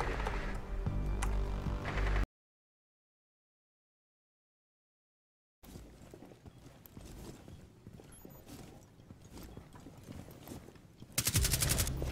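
Gunfire in Rainbow Six Siege, rapid repeated shots and mechanical clatter in fast bursts, broken by a stretch of total silence, then continuing with a loud burst at the close.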